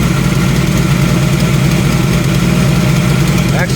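1990 Jeep YJ with a 4.2L engine idling, a loud, steady low rumble with a slightly uneven rhythm throughout.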